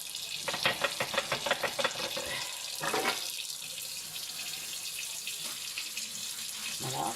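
Dishes being washed by hand with a cake of dish soap under a running tap, water splashing and clattering with rhythmic scrubbing at first, then a steady stream of flowing water continuing close by.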